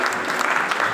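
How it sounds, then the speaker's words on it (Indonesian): Brief burst of audience applause at a Christmas church service in Jayapura, steady dense clapping filling the whole second with no talk. "tepuk tangan untuk ini orang baik-baik semua."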